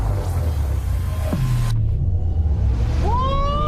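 A Chevrolet Blazer EV SS in Wild Mode accelerates hard with a loud, steady rumble of electric drive and road noise, and a rising whine climbs in pitch toward the end.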